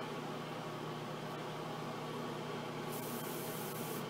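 An airbrush sprays paint at low pressure for a bare metal finish on a model, a steady close hiss of air and paint that holds even throughout with no talking.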